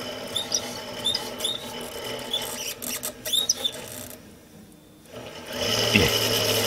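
A small drill bores a hole through a freshwater fishing float, starting slowly, with a close, thin whirring and squeaky grinding that speeds up and falls off in short runs.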